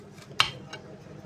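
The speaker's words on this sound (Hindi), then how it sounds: "तो अब देखिए इसको हमने तरबूज को काट लेना है इस तरीके से। इसके लंबे लंबे से हमने कतलियाँ इसकी काट लेनी है।" A knife cuts watermelon into long slices, producing one crisp, close knock of the blade against the board, then a softer tap and quiet room tone.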